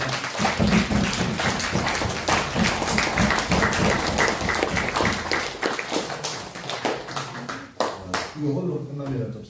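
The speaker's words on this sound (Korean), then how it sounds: "박수 주시고 감사합니다." A church congregation applauds at a Korean service, loud, sustained clapping from many hands that fills the space, thinning toward the end as a voice comes back in.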